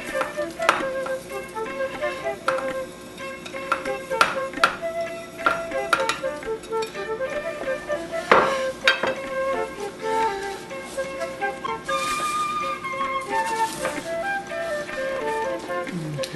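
Sizzling and scraping as shredded coconut is stirred into hot caramel in a pan, with spoon clinks against the pot and a steady crackle throughout.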